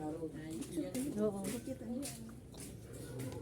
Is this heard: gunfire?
no